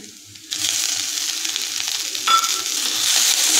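Garlic cloves, chopped ginger and cut tomatoes hit hot oil in a kadai, bursting into a loud, steady sizzle that holds strong throughout, with a brief stir or scrape partway and no voices.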